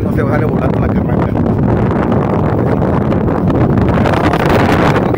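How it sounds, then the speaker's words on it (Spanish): Strong wind roars and buffets the microphone at a hunting spot, a loud continuous gusting rumble that does not let up, with a voice speaking underneath. "está el aire a todo lo que da, una cosa increíble de viento"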